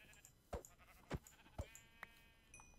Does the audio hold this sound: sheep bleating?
yes